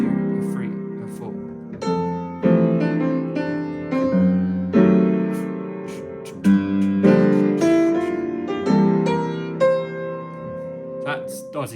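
Jazz piano comping: a steady sequence of struck chords alternating between root position and held inversions, with clear attacks and sustained decays and no talking.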